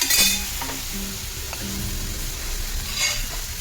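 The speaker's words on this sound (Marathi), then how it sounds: "कांदा भाजतोय तोपर्यंत आपण मटकी भाजून घ्यायचं" Onion and moth beans dry-roasting in a pan while making Maharashtrian misal, a steady close sizzle with a few soft stirring scrapes and light utensil clinks.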